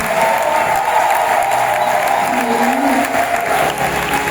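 A church congregation applauds and acclaims at a prayer service, a loud, steady wash of clapping that fills the room and holds without a break from start to finish.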